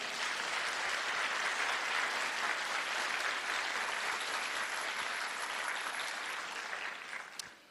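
A church congregation applauds, a broad, even roar of clapping that stays steady and then tapers off near the end.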